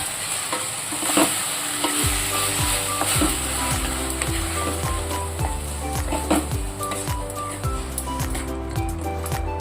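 Coriander chutney with tamarind pulp frying in a pan, a steady close sizzle with rhythmic spoon scrapes and stirring knocks against the pan running throughout.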